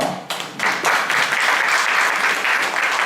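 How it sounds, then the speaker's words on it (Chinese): Audience applause fills a training-session hall for a Sanyang Textile product presentation, a dense, steady wash of many hands clapping that swells quickly after a brief start and holds loud and even throughout. "大家热烈鼓掌"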